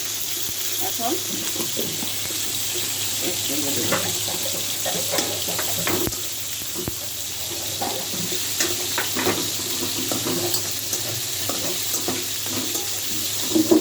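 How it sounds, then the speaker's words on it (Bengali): Steady crackling sizzle of onions frying in oil, with faint scattered clinks and stirring noises over a constant hiss. "এখন পেঁয়াজটা ভাজা হতে সময় লাগবে"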